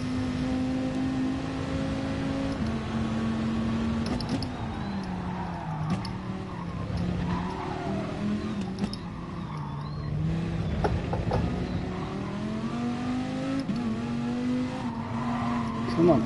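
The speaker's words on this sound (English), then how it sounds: "Rev it out." A race car engine in a racing video game revs hard and holds a steady, loud drone that climbs and falls in pitch through gear changes. Occasional tire noise comes through, and someone talks over it at times.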